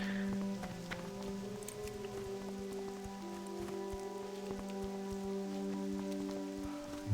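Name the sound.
rain falling in World of Warcraft Classic, video game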